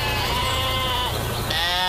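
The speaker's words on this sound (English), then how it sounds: "Look at those sheep." Sheep bleat in overlapping, wavering calls against a steady outdoor noise, loud and close, several animals crying out together.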